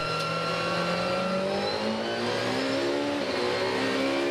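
Several Supercar Challenge race cars, including a Viper and a Ferrari, rev and accelerate away from the grid at Assen circuit, overlapping engine notes rising in pitch together, loud and sustained.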